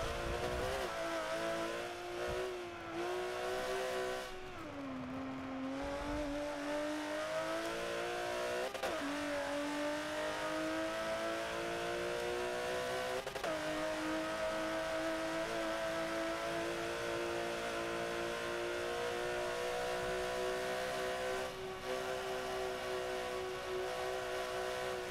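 Porsche Cayman race car in Forza Motorsport 7, its engine droning continuously and rising and falling in pitch through gear changes and throttle lifts, loud and close with no voices.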